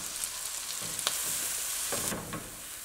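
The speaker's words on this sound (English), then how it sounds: "we're gonna dump in the garlic. Get that all sauteed in there." Garlic sizzles steadily in a hot pan, a close, even frying hiss with a few stirring scrapes near the middle and end; no one speaks.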